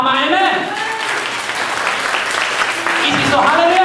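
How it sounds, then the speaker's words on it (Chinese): A church congregation applauding during a Sunday service, a dense, sustained burst of clapping from many hands filling the room, with voices calling out over it. "给主一个掌声好吗"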